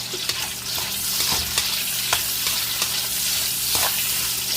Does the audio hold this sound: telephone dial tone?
no